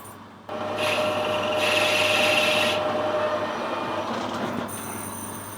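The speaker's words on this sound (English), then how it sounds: "I'm going to put a little chamfer on the end just for the die to start on." A lathe cuts a chamfer on a bronze boiler fitting, giving a steady close whirring drone with a thin, sustained high-pitched ringing tone that fades near the end.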